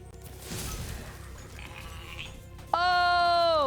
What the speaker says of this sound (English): I think it's a sheep.